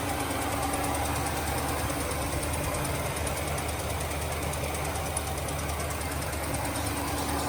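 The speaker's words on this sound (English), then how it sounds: "This truck fires up pretty good." A 1972 Chevy C20 truck's big block engine idling, a steady loud rumble with a continuous low throb and even mechanical chatter throughout, no voices.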